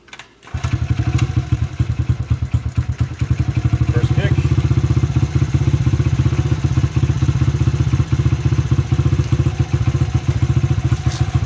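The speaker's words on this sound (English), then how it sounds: "Bike's set to run, see how many kicks it takes to start," A 2006 Honda CRF50F dirt bike is kick-started and its small engine catches almost at once, settling into a fast, loud, close putter that runs steadily with slight throttle changes.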